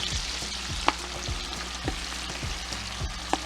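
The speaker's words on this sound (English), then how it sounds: "let's start adding the turnip greens. And they're going to somewhat fry a bit." Turnip greens hit melted butter in a pan and fry with a loud, continuous sizzle, punctuated by regular low thumps and a few sharp clicks as they are stirred close by.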